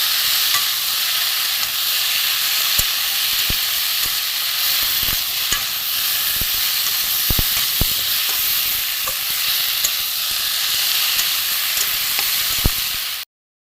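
Pointed gourd and prawns stir-fry in a pan, giving a steady loud sizzle throughout, broken by sharp scrapes and clacks of the spatula at irregular intervals, with no voices until the sound cuts off abruptly.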